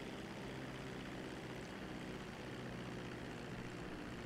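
A continuous propeller-aircraft engine drone hums at an even level throughout, with no voices, as an aircraft lands in GTA 5.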